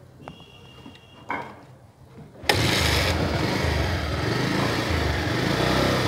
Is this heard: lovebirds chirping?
no